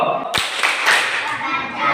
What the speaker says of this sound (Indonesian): jadi kita tepuk wudhu